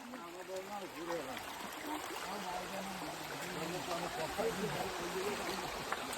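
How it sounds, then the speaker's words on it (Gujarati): River water flowing steadily with a broad, continuous rushing wash, heard from close by at a crossing point while people talk over it throughout. "આ નદી છે."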